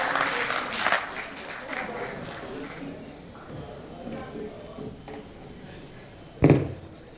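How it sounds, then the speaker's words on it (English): An audience at a symposium applauds for a speaker, with the clapping loudest at the start and fading over several seconds. A single loud thump near the end sounds like a door. "Give her a big round of applause."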